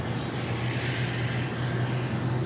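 A Scoot airliner departing Sydney Airport at night, its engines a continuous loud roar with a low rumbling hum, heard alone without voices.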